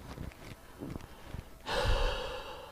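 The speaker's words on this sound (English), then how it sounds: "I can see the audio changing when I breathe." Close breathing into a microphone tucked under a beard near the neck: a few soft breaths at first, then a louder, sustained breathy rush of air that fills the last second.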